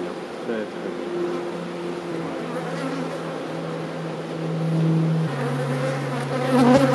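Honeybees buzzing densely around an opened beehive during frame inspection, a steady swarm hum with individual bees passing close to the microphone, lasting throughout.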